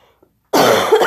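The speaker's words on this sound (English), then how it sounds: "I've been coughing for a week" A single harsh, wet cough from a person with a chest cold bursts out after a brief near-silence, loud and close, with a short raspy tail.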